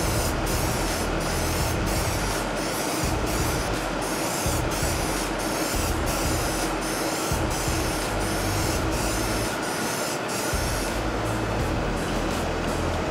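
Scotchgard sprayed onto an upholstered door panel of a C10 truck, a continuous close hissing spray with a faint pulsing rhythm that runs throughout without pause.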